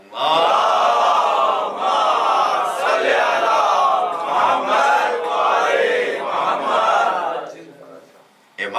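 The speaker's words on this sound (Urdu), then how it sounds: "بآواز بلند صلوات پڑھیں" A large crowd at a Muharram majlis loudly recites salawat in unison, a dense, sustained chorus of voices that rises and swells for several seconds before tapering off, with a brief fresh burst at the very end.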